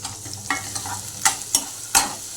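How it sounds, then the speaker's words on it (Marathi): Chopped onion frying in a pan as the base for a curry gravy. A soft continuous sizzle is broken by four or five crisp spoon scrapes and taps while it is stirred. "कांदा फ्राय करून घ्यायचा"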